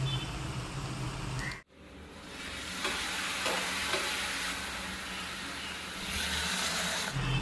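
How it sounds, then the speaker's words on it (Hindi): Onion, chili and papaya flower frying in a pan, a steady soft sizzle broken by one brief dropout, then continuing evenly at a low, close level with no talking. "ये अभी प्याज मिर्ची थोड़ा सा फ्राई होने दे रहे हैं।"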